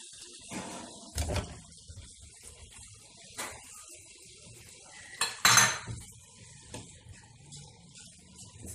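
Potatoes tipped into a pan and stirred for spicy stir-fried aloo, heard as scattered metallic clanks and scrapes of a utensil against the pan, including one loud clatter, separated by quiet gaps.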